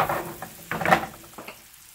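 Onions and aromatics sweat in melted butter in a pan, giving a close, steady sizzle with a few brief louder crackles and a spoon stirring through them, with no voices.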